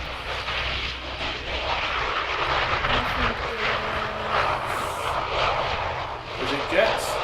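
A UPS Boeing 747 comes in to land, its engines producing a loud, broad, sustained roar that rumbles on steadily throughout, with people talking over it in the background.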